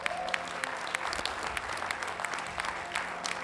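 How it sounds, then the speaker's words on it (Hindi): A seated audience at a success-coaching seminar claps loudly and steadily, a dense wash of hands that carries on evenly throughout without pause. "दीदार सर के लिए एक बार जोरदार तालियां।"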